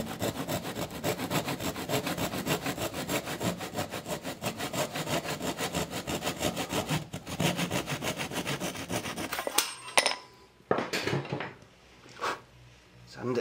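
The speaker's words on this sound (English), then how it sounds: "Now I'll just try and saw that off level." A hand saw cuts through a 10 mm wooden dowel, rapid rhythmic rasping strokes close up for about ten seconds, then a few light knocks and handling sounds.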